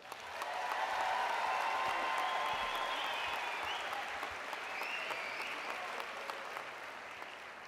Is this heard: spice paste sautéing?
no